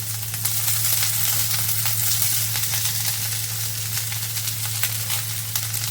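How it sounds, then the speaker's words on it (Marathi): Onion and vegetables for Hakka noodles sautéing in a pan, a dense, steady sizzle with a low hum underneath that stays unbroken throughout. "म्हणजे सगळं आता आपण जे आहे ते व्यवस्थित सॉटे करूया."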